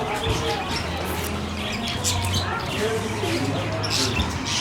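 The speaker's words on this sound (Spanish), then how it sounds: "Venimos a ver los pajaritos." Birds chirp and tweet in an aviary at a farm, a steady mix of small calls and cooing under ongoing nearby conversation and background bustle.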